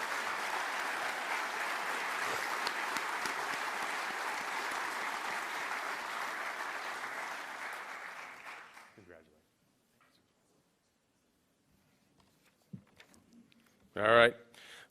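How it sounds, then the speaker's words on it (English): Audience applause at a Secretary of Defense Employer Support Freedom Awards ceremony rings out for an award recipient, a sustained, moderately loud clapping that fades out around nine seconds, followed by near silence and a brief burst of sound near the end. "a big round of applause for Mr. Frank Elston, the President."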